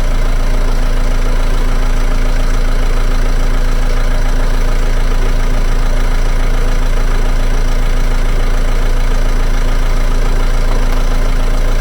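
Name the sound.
Ford Mondeo Mk5 engine running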